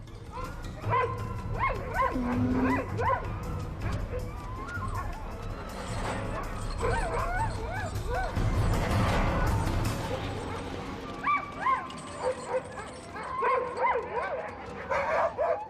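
A pack of dogs barks, yips and whimpers near a hungry polar bear on the sea ice, bursts coming and going under a narrator's voice.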